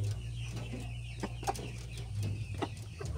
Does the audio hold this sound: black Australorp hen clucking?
yes